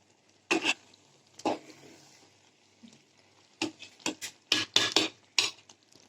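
Avial, a Kerala mixed-vegetable dish finished with coconut oil, being stirred in a pot: a few separated scraping strokes early, then a quick cluster of spoon-on-vessel scrapes and clinks near the end, close and clear with no talk.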